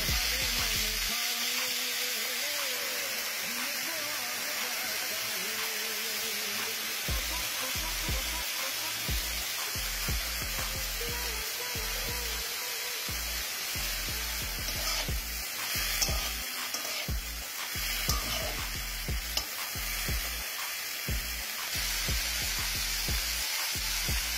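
Beetroot, cauliflower, tomato, carrot and peas frying in a pan at home for Maggi, with a steady loud sizzle and intermittent scraping stirs throughout, no talk.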